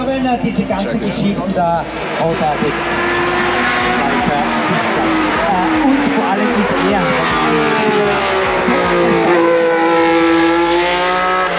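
A 1980s Formula 1 race car pulls in close and loud, its engine pitch climbing and sagging as it revs, with voices talking over it.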